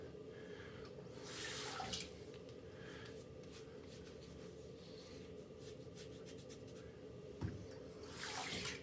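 Water runs from a sink tap to rinse a razor, with a steady low hiss throughout and louder splashing bursts near the start and again at the end.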